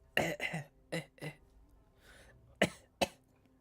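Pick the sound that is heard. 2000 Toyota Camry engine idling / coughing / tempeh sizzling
coughing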